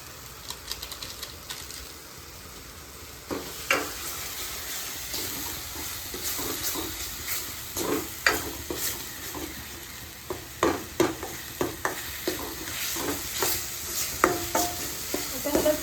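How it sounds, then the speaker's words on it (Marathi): Chole masala sautéing in hot oil, a steady sizzle broken by repeated scraping clicks of a spoon against the pan, growing busier as stirring continues, close and fairly loud, no talking. "जोपर्यंत तेल सुटत नाही तोपर्यंत असंच परतत राहायचं."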